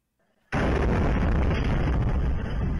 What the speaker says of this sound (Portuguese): foi uma explosão causada por um drone num local de recrutamento de soldados lá na Rússia